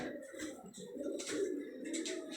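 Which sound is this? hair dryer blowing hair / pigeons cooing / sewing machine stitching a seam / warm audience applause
pigeons cooing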